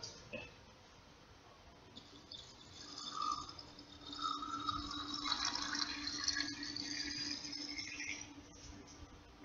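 Alcohol is poured into a specimen jar to make a wet specimen, a soft liquid trickle and fill rising over several seconds with faint glass rattles, close by and quiet.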